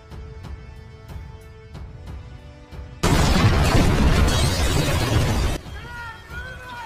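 A bomb explodes in a warehouse in a Jackie Chan action movie. A loud roaring blast lasts a couple of seconds, with quieter music and voice-over narration before and after it.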